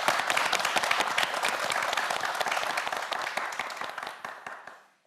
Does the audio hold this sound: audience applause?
yes